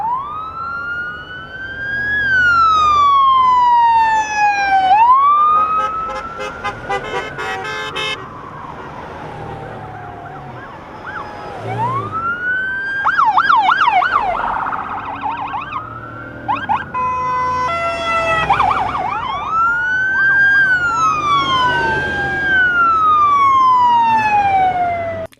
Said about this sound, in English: the Nye County Sheriff's Office showed their support by escorting the teams through town with lights and sirens